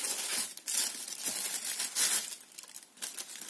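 Thin tissue paper rustles and crinkles close up as a gift parcel is unwrapped, a steady papery crackle with brief tearing swells and no voices.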